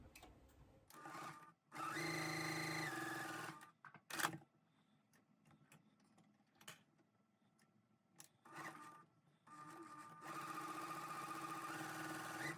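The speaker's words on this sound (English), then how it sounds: "So I need to sew a 1/4 inch away from that line I have already drawn." A sewing machine runs in two sustained bursts, stitching a quarter-inch seam on a twin star basket quilt block, with quiet handling noises and a short pause between the runs.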